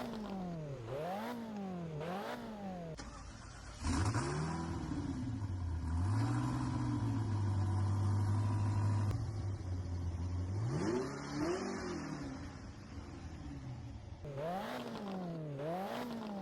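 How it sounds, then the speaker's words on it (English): An SSC Tuatara engine in the racing game Driving Empire revs up and down, rising and falling in pitch through gear shifts, with a softer, somewhat muted tone throughout. "I'm not sure if an SSC Tuatara is supposed to sound this soft"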